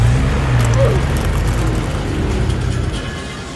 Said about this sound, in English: I'm gonna take this one and drag him behind my car using some string